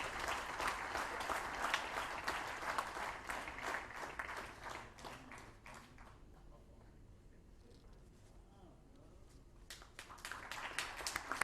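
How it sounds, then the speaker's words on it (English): At a valedictory session honouring past IAEG presidents, an audience claps loudly, the applause thinning into a quiet lull before swelling again near the end. "Can we have a bigger round of applause,"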